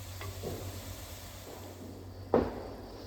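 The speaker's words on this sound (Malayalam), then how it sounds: "ഇനി ഇത് ഒന്ന് മൂക്കണ വരെ ഇളക്കാം" Garlic and curry leaves fry in oil for a prawn pickle, giving a soft, steady sizzle with a few light stirring scrapes and one sharper clatter near the end.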